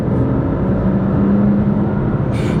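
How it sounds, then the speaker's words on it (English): Engine of a BMW M2 CS drones steadily inside the cabin while driving, a low continuous roar with a slight rise in pitch, no talk. "Downshift."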